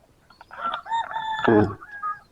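A rooster crows once in the rural Isan countryside, a clear, fairly near call of about two seconds with rising and falling tones over faint ambient noise.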